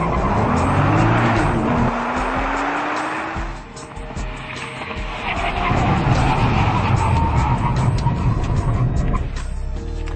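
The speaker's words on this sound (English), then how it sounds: "We're going to do a 100 to 0 braking and 60 to 0 both." Nissan GT-R with steel Brembo brakes hauling down hard from 100 mph to a stop on a test track, a loud rising engine and tire roar that dips briefly then swells again as the car brakes, with a voice talking over it.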